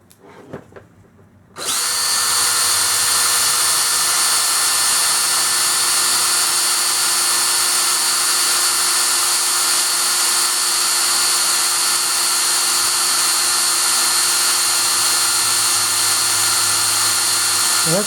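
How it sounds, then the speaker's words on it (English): A power drill with dull bits whines steadily and loudly after a brief quiet start, its pitch holding constant as it bores continuously through hard wood, with no talking. "Need to sharpen the drill bits"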